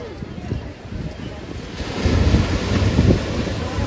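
Ocean surf rolls in on New Digha beach as a low, rumbling wash that swells after the first couple of seconds. Heavy wind buffets the microphone throughout, and no clear voices come through.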